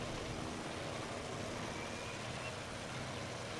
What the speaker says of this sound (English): I definitely hear another engine in the sky.